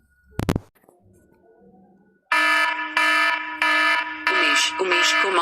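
A custom alarm ringtone plays loudly from a phone after a short quiet lead-in, sounding as a series of bright, repeated tonal beeps in an even rhythm.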